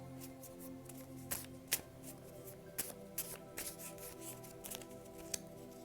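Tarot cards being shuffled by hand, a soft continuous riffling broken by several sharper slaps and flicks, close and fairly quiet with no talking.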